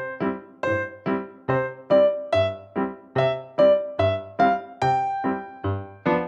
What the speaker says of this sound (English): I'm gonna take a classic song, Row, Row, Row Your Boat, and I'm gonna play it without any syncopation.